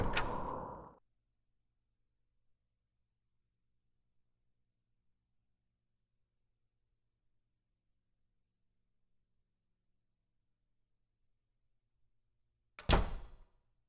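A door opening in Silent Hill 4: The Room, a short thudding, creaking burst, then long silence before a second sharp knock-like impact near the end.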